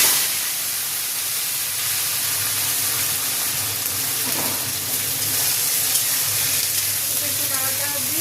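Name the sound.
vegetables added to hot oil with spices, sizzling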